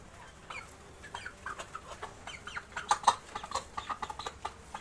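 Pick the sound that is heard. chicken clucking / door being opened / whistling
chicken clucking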